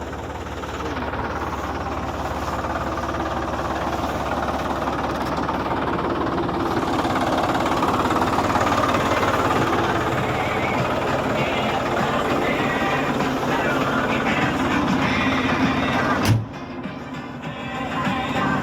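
A Solis 50 tractor pulls a homemade cultivator through a field, its diesel engine giving a steady loud drone with metallic rattle throughout, then a sharp knock near the end.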